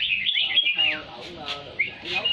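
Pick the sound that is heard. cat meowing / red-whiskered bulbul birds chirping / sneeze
red-whiskered bulbul birds chirping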